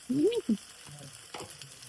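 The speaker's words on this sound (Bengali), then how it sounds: "টমেটো কুচি। হ্যাঁ, দিয়ে আবার নাড়বো।" Chopped tomato stirred into a hot frying pan for a homestyle Bengali chhechra, with a couple of brief scraping stirs near the start and a soft, steady sizzle underneath.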